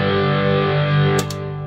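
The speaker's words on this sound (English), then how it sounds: "I'm playing Cushy Kush into this Talisman Reverb, into the Stompman." Electric guitar on a semi-hollow Telecaster with Filtertron pickups, played through a PTD Kushy Kush brownish overdrive and a Talisman reverb into a clean solid-state Stompman amp and Creamback Neo speaker cabinet: a sustained, gritty distorted chord ringing out steadily.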